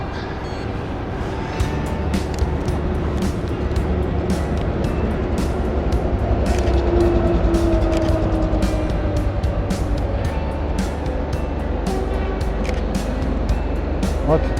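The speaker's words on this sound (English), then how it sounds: "Lots of traffic." Road traffic passing along a route beside a veloway, a continuous rumbling roar of cars and trucks going by with a rising engine tone in the middle, close and fairly loud, with no talking.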